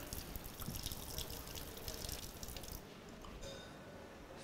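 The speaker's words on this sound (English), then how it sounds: "So, for that, I will just pass some water from the tap" Tap water runs over a hot glass test tube to cool it in a chemistry lab, a steady broadband splash and trickle that continues throughout, easing slightly toward the end, with no talking.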